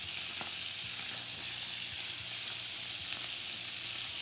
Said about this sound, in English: you want this really hot, sizzling in the pan